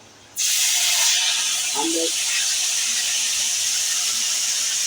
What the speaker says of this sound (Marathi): फोडणी मस्त गेली सडसडली एकदम